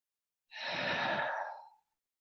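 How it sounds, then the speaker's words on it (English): A single slow, deep breath during a yoga session, about a second long, soft and airy and close up, heard on its own in silence. "take a deep breath in and out"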